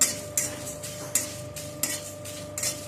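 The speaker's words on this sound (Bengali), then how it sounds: "প্রথমে আমি মশলাগুলো একটু শুকনো খোলায় ভেজে নিচ্ছি" Whole cumin and other spices dry-roasting in a hot pan, stirred with a metal spoon that scrapes and clinks in a regular rhythm of about five strokes, close by and fairly quiet.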